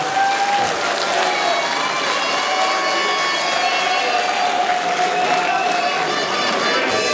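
A crowd at a UDPS political meeting applauds and cheers continuously, a dense, loud wash of clapping with shouts mixed in, and voices carry over the top.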